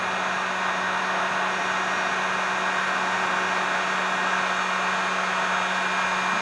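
A heat gun blasts steadily at a painted goby-style fishing jig, a continuous loud airy roar with a faint motor hum underneath, unbroken from start to finish with no talking.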